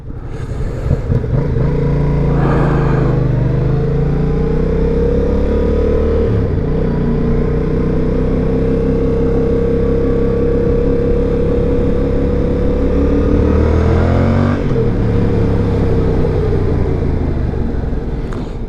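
Yamaha XSR700 motorcycle ridden at speed on a motorway, its engine droning loud and steady throughout, with rising and falling pitch as revs shift and heavy wind rumble over the microphone, no talking.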